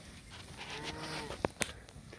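A herd of about 400 cattle lows in a field, a soft, drawn-out moo rising from distant background noise, followed by brief sharper calls near the end.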